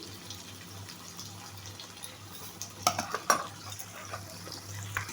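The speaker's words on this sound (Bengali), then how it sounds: "এবার একটু নেড়ে চেড়ে দেবো।" A spoon stirs a cabbage and tangra fish curry in a pan: a low simmering bubble runs throughout, with a few sharp metallic scrapes and clinks against the pan near the middle.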